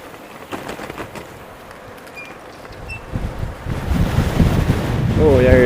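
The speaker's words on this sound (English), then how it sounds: "Oh, there's the wind." Wind buffets the microphone on a bike tour in South Korea, a low rumbling roar that starts moderate and builds steadily louder toward the end, with no one talking over it.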